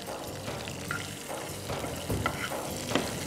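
Onions sizzling in hot tempering oil (bhagar) in a pan, a steady close crackle with stirring scrapes and a few louder pops.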